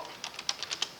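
Keys tapped on a computer keyboard: about six quick, light clicks in a loose rhythm, close and quiet, with no voices.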